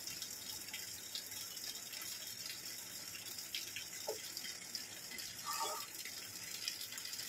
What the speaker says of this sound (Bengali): এবারে নর్মাল জল দিয়ে এটাকে একটা ডো বানিয়ে নেব।